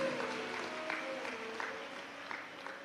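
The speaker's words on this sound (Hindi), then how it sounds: "एक बार जोरदार ताली बजाकर उनका स्वागत करिए।" Audience at a live Shiv Mahapuran religious discourse clapping to welcome a guest saint, a steady patter of many hands at moderate distance, fairly soft and even, with no talk over it.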